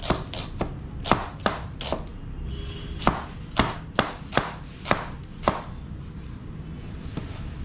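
A raw onion being chopped on a board, about fifteen crisp knife knocks in irregular bursts, close and clear with no talk.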